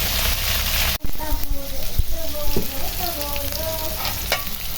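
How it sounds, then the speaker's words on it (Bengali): Fish rubbed with salt, turmeric and chili powder sizzles and spatters in hot oil in a home kitchen: a loud, continuous frying hiss close by, with a sharp burst as it starts and a voice talking over it. "তেলটাও গরম হয়ে আছে, এখন দিয়ে দেবো মাছটা।"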